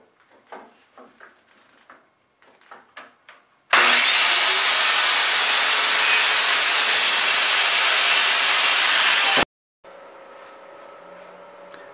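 A power saw rips through a 2x4 wooden board in one long, loud, steady cut of about six seconds, preceded by light clattering handling sounds and followed by a quiet hum.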